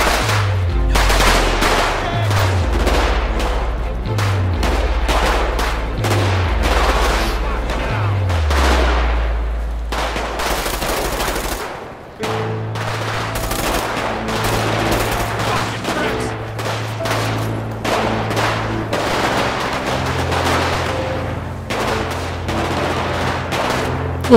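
Rapid automatic gunfire from a zombie survival mode in the video game GTA 5, loud repeated bursts with a few pauses, a brief drop near the middle, then more sustained firing, with voices under the shots.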